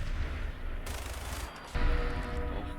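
Rapid bursts of video game gunfire, loud and dense, fill the whole stretch, with a sharper, heavier volley kicking in near the end and no voices.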